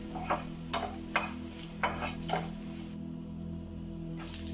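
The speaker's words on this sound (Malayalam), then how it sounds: "റോ ടേസ്റ്റ് മാറുന്ന വരെ ഒന്ന് ഇളക്കി കൊടുക്കാം" Stirring white chilli curry in a pan gives a series of short scraping strokes, roughly one every half second, over a faint sizzle and low steady hum, close but quiet.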